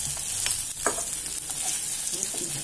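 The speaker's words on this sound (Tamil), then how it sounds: "இதுல இஞ்சி, கருவேப்பிலை எல்லாம் போட்டுருங்க." Ginger and curry leaves crackle and sizzle in hot oil with cashews in a pan for rava moong dal pongal, a dense close frying hiss with sharp pops and a few stirring scrapes throughout.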